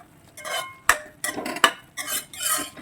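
Spoon stirring kovaikka poriyal (ivy gourd stir-fry) in a metal pan, several scraping strokes with sharp clinks of utensil against the pan, close and alone without talk.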